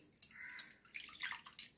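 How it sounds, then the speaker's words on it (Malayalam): Ghee rice grains are swished and rinsed in water by hand, producing soft, close sloshing splashes in short bursts. "ഇത് നന്നായിട്ടൊന്ന് നമുക്ക് കഴുകിയെടുക്കാം."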